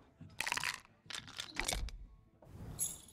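Dice rattle and crunch in bursts during a board game, several grainy, crackly clatters with short pauses between them, close and fairly loud, with no voices.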